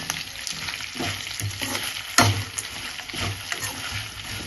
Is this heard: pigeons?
no